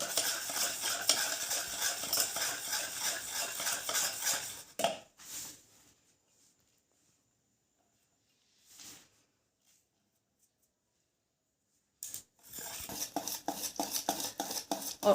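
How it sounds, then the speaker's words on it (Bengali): Sponge cake batter with milk is stirred in one direction by a spoon in a bowl, a close, busy scraping and clinking that runs for several seconds, stops into near silence with a few soft knocks, then resumes loudly. "এরকমভাবে একদিকে ঘোরাতে হবে।"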